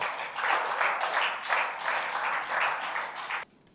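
An audience at a Toastmasters club session applauds its newly installed president, with dense, lively clapping sustained for over three seconds before it cuts off abruptly.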